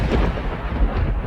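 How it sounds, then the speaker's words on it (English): A thunderclap sound effect for a dance soundtrack rumbles deep and loud throughout, a continuous rolling boom with swelling low-end pulses and no voices. "Thunderclap."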